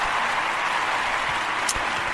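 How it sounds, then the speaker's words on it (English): A studio audience applauds in a steady, dense wash of clapping that holds evenly from start to finish at moderate loudness, with no talking over it. "Round of applause for Fogo de Chão."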